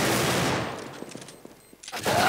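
Desert Eagle pistol shots in a competitive first-person shooter match, loud close gunfire bursts opening the clip, then quieter scattered reports and another loud burst near the end.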